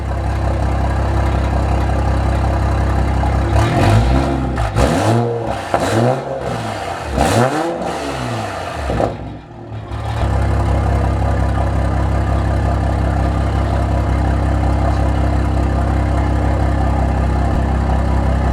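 A 2020+ Toyota Supra with an ETS 4-inch Extreme Pro exhaust idles loudly, then blips through several sharp revs that rise and fall, drops briefly, and settles back into a deep, steady idle.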